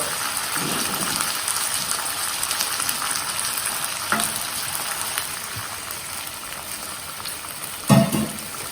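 Water goes into a pan of gravy potatoes cooking with ginger chilli paste, a steady close sizzle and frying hiss with soft stirring scrapes and a couple of brief clanks, and no talking.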